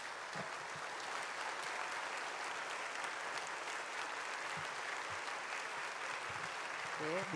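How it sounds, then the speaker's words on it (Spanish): A church congregation at a Friday night vigil at Manmin Church in Colombia applauds steadily and fairly loudly for the whole stretch, a dense wash of many hands with no pause, and a few voices sound faintly beneath it. "Le damos bienvenido con un gran aplauso cuando se levante."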